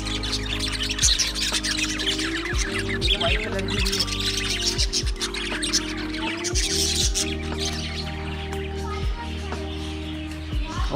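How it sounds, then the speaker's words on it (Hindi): Small birds chirp and tweet in a busy chorus with occasional squawks, set against steady low hum and background noise at a park in Nepal, continuous throughout. "चिड़िया देखना कितनी प्यारी प्यारी चिड़िया है"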